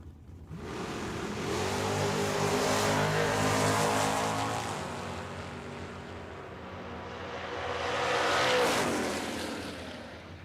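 A Camaro launching down a dragway: a loud roaring engine builds, thunders past, fades, then another surge of race engine noise swells again, with no voices.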